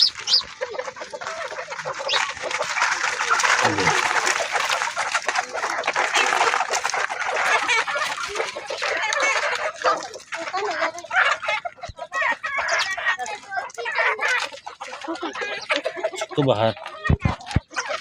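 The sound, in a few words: chickens clucking as they gather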